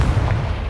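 A Confringo blasting spell exploding in Hogwarts Legacy: a short, loud, deep rumbling blast that fills the whole moment with booming low-end energy and no talk.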